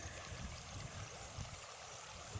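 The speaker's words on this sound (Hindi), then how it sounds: "कल कल करता पानी, सुबह सुबह का मौसम" Steady babbling flow of a stream on a morning outdoors, a continuous broadband rush of water heard alone without any talk.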